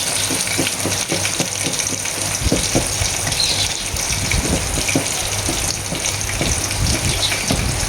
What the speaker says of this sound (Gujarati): આટલું પોણી રેડવાનું